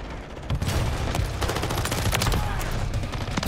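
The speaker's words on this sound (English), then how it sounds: "Where is this guy shooting me from?" Rapid automatic gunfire in Call of Duty Warzone on Rebirth Island, a loud, continuous fusillade of close shots lasting the whole stretch, with a voice faintly underneath.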